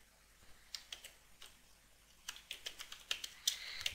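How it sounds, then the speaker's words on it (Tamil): Quiet computer keyboard typing while entering text in Adobe Premiere Pro: irregular light key clicks, sparse at first and then quicker in a short burst, close and soft with no talking. "அடுத்து நம்ம பண்ண வேண்டியதெல்லாம் நம்ம டெக்ஸ்ட் டைப் பண்ண வேண்டியதுதான்"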